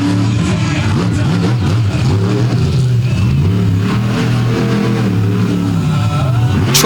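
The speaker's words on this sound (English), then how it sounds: "Truck sounds just awesome, though. The engine tunes so crisp." A racing truck with electronic fuel injection revs its engine at a night race event in Benson, North Carolina, a loud, close, continuous roar rising and falling in pitch for about seven seconds.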